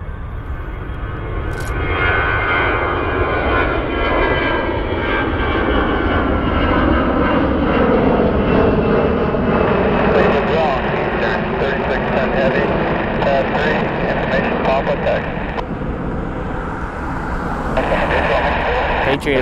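A jet aircraft performs a go-around at Cleveland Hopkins airport, producing a steady, loud engine roar with gradually shifting tones across the whole clip while radio chatter from air traffic control runs underneath.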